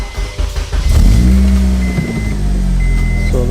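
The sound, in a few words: Acura RSX car engine starting and running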